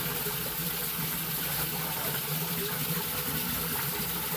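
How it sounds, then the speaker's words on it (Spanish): Tap water runs steadily from a faucet as clothes are hand-washed in El Salvador, a continuous close gush with a low pump-like hum beneath it and no voices. "Voy a prender el chorro."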